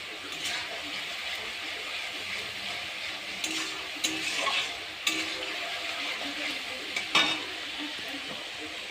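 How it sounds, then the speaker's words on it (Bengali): Spices stir-fried in oil give a steady sizzle, with repeated scraping strokes and a few sharper clinks of the utensil against the pan. "সেই মশলাগুলোতে ভালো করে নাড়াচাড়া করে নিচ্ছি যতক্ষণ না তেল না ছাড়বে ততক্ষণ পর্যন্ত।"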